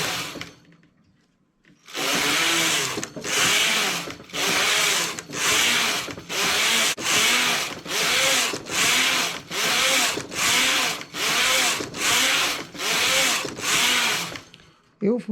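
A domestic knitting machine carriage sweeps back and forth across 120 stitches of plain stockinette, giving a loud, regular series of about thirteen rasping passes, each a second or so long, with a short pause between them.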